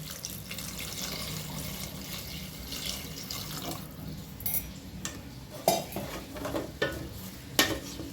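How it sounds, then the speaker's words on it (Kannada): Water pours into a cooking pot of dal khichdi, a soft steady splashing and stirring with several sharp clinks of a utensil against the pot toward the end, fairly quiet and close. "ಇದೊಂದು ಸ್ವಲ್ಪ ಕುದಿಯೋಕ್ಕೆ ನೀರು ಹಾಕ್ಕೊಳ್ತೀನಿ."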